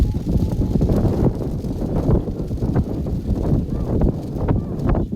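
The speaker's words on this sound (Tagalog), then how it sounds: "Ang malakas ang hangin talaga" Strong wind buffets the microphone in heavy, uneven low gusts while flying kites, loud and close, with no clear voices.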